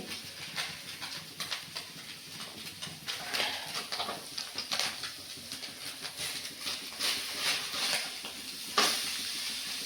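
Potato and drumstick pieces coated in mustard paste fry in a pan, giving an uneven, crackling sizzle that rises and falls in bursts, with a sharper pop near the end.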